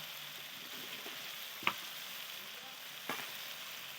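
Mutton frying with half a tomato and salt in a home kitchen pan: a soft, continuous sizzle with two sharp clinks of a utensil against the pot.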